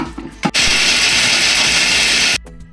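Mixer grinder pureeing coconut into paste in a kitchen: a few clicks and taps, then a loud, steady high whirring motor grind for about two seconds that cuts off abruptly.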